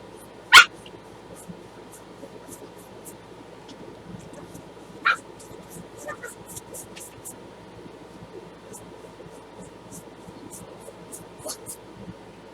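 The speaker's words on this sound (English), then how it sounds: "And yes, the dogs is out here again." Dogs bark outdoors near a beach, with one loud sharp bark early, a second a few seconds later and fainter yips scattered under a steady background hum.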